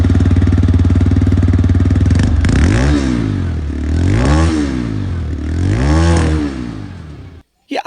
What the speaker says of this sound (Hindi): इसकी और इंजन की जो साउंड है फिर जो एग्जॉस्ट साउंड है वो सुन लेते हैं